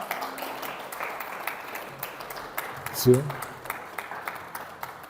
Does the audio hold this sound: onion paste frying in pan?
no